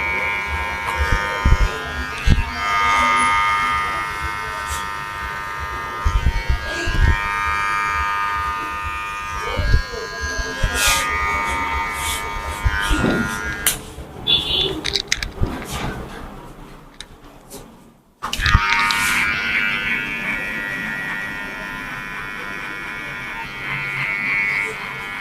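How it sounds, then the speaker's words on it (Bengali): An electric hair trimmer cuts a high fade haircut, buzzing in repeated bursts close up with short breaks and handling clicks between passes, and a brief silent gap near the end before the buzz resumes; someone talks at times over it. "টিবারের আগা দিয়ে আমরা এই সামনের রাউন্ডটাকে কেটে দিব।"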